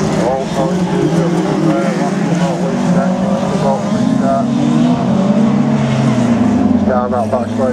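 Six autograss race cars roar off the line at a race start, loud engines revving together in a dense continuous drone, with a commentator talking over the noise.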